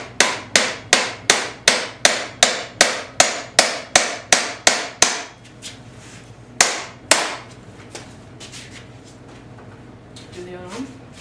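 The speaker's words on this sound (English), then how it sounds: "Just hammer it in." A nail is hammered in with about fifteen sharp, evenly paced strikes in quick succession, then two more blows after a pause, close and loud with faint speech.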